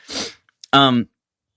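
A sharp sneeze bursts out after a quick breath, followed by a loud voiced exclamation right up close.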